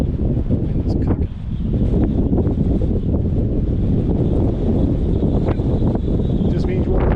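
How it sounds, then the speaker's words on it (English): Strong wind at Hoover Dam roars steadily into the microphone, a loud, constant buffeting rumble that barely eases for a moment before surging back. "That wind is cooking."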